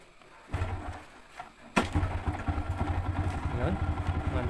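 A motorcycle engine starts up and settles into a steady, close idle with a rough, rumbling rhythm after a short cranking attempt.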